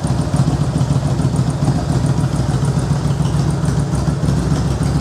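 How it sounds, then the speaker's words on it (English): A motorcycle engine runs steadily nearby, a loud, even idle with a low throbbing rumble and faint mechanical clatter, holding without change for several seconds and no voices. "it is an absolutely stonking motorcycle"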